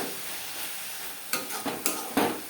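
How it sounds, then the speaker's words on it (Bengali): Spoon stirring a drying carrot and sugar laddu mixture in a pan over high-medium flame, faint sizzle followed by four distinct scraping strokes in the last second, with no talk. "অনবরত নাড়াচাড়া করে ড্রাই করে নেব রান্নাটা করব হাই মিডিয়াম ফ্লেমে"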